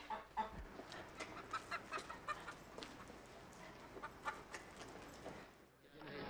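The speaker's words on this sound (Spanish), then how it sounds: "pues yo tengo gallinas." Hens clucking in short, repeated bursts at close range, with faint background noise between the calls.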